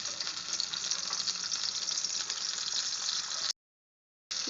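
Chopped onion frying in hot oil for a prawn fritter curry, a steady bright sizzle close up that runs unbroken, briefly cuts to silence, then resumes.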